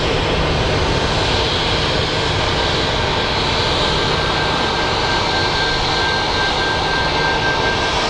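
An Airbus A220 jet lines up at Phoenix Sky Harbor Airport, giving a constant, dense engine rumble and hiss at moderate distance with a faint whine, and no talk.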